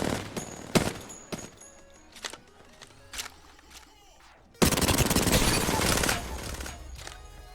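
Weapon fire in Apex Legends: several sharp single shots ring out with short echoing tails, then a sustained loud burst of rapid automatic fire, all close to the listener.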